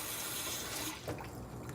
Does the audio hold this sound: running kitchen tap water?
yes